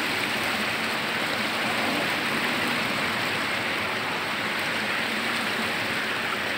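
Steady, moderate rush of a mountain stream flowing downhill, an even hiss of running water with no voices over it.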